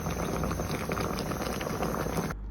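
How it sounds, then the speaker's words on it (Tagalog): Water bubbling at a rolling boil in a saucepan, a dense steady bubbling that cuts off abruptly near the end. "Kumukulo na."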